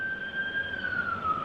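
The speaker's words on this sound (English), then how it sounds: "Hold on, wait for the ambulance and then speak up." An ambulance siren passing outside a courtroom comes through as a steady, fairly loud wailing tone that sags slightly in pitch, heard alone without talk.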